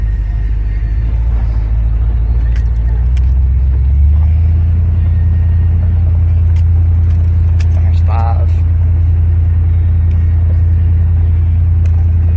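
A pickup truck fitted with Holley Sniper EFI climbs a big hill at light throttle. A loud, steady low engine drone fills the whole stretch, with a slight shift in pitch partway through.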